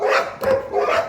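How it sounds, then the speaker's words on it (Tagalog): A dog barks in a car-repair setting, two or three short, sharp barks in quick succession, fairly close and loud, with no speech over them. "Tawag na naman yung aso natin si Bruno Papi."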